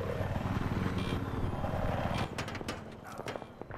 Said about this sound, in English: Chopper coming up.